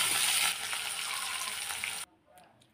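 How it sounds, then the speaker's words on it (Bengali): Potatoes frying with turmeric and salt in a pan hiss loudly and steadily up close for two seconds, then the sizzle cuts off abruptly to near silence. "হলুদ লবণ দিয়ে ভালো করে ভেজে নেব।"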